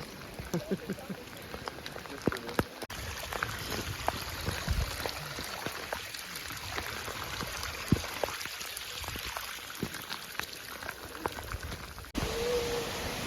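Rain falls steadily on trees around Mirror Lake in the Canadian Rockies, a soft, even patter of drops with scattered louder splats, heard from shelter beneath the branches.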